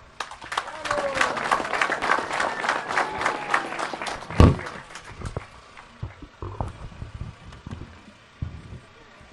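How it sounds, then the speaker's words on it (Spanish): Crowd applauding at an outdoor ceremony handing over 48 homes to families in Tarija; brisk clapping builds for about four seconds, a sharp thump cuts through, then it thins to scattered claps under quiet background sounds. "Un fuerte aplauso nuevamente"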